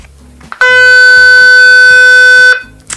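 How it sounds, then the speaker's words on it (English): A loud, sustained electronic beep from a Gen 6 Hybrid RealCare Reborn baby doll holds steady for about two seconds, preceded and followed by faint handling clicks. "it will make a loud beeping sound"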